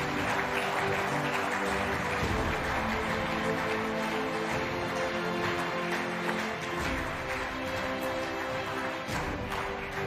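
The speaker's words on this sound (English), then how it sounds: "A huge round of applause, ladies and gentlemen." Audience applause for ISRO scientists at an awards ceremony on stage: sustained, dense clapping from a large crowd, steady and moderately loud for about ten seconds, with faint music tones beneath and no talking.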